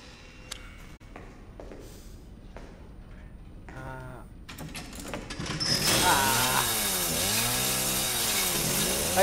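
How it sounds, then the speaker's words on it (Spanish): A chainsaw revs up and runs loudly and continuously in the video game Resident Evil 7, with its pitch rising and falling as it is throttled, after quieter scraping and clattering sounds. "Ahí se va a romper la motosierra, ¿verdad?"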